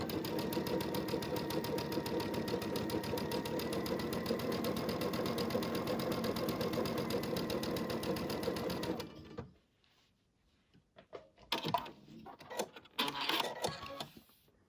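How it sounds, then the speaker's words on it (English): Sewing machine stitching two quilt fabric pieces together on a 1/4 inch seam, a loud steady run lasting about nine seconds, then stopping, followed by quieter handling sounds. "All I'm doing is sewing one piece of fabric to the other using my 1/4 inch seam."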